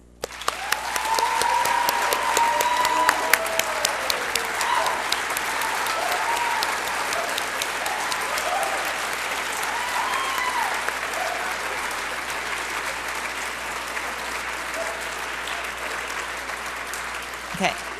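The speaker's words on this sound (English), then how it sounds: "Now we would like to give the 2008 yearbook staff an overdue round of applause." A school audience at a high school yearbook ceremony claps steadily for the yearbook staff, sustained applause that rises quickly and holds for many seconds in an indoor hall.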